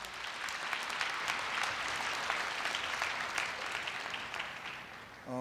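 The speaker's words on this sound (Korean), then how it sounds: "박웅현 대표님을 큰 박수로 맞이해 주시기 바랍니다." A large audience at a university entrance ceremony applauds to welcome a speaker, a broad, even wash of clapping in a big hall that carries steadily and begins to fade at the end.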